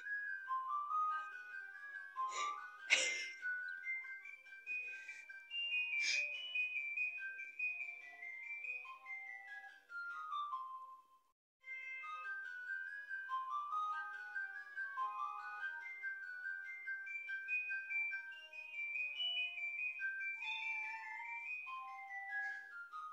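A phone alarm plays a bright, bouncy electronic melody that repeats in looping phrases, with a brief gap near the middle and a couple of sharp clicks early on, heard fairly close with no talk.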